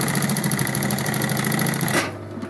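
A sewing machine runs a fast, even stitch through very thick pouch material for about two seconds, close and steady, then stops abruptly into quiet.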